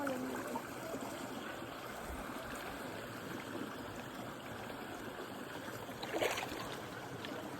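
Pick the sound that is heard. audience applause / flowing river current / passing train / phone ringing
flowing river current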